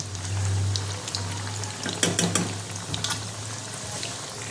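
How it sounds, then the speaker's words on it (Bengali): Chhana (cottage cheese) balls fry in hot oil with a steady, close sizzle, broken near the middle by a brief burst of louder crackling and scraping. "এগুলো আমি হালকা লাল লাল করে ভেজে নেব"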